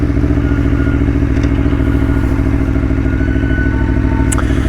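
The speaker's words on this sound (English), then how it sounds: "That V4 soundtrack, I mean, you can't really beat it" Aprilia Tuono V4 1100 motorcycle engine running loud and close, a dense rapid pulsing V4 burble that stays continuous throughout with a few light clatters on top.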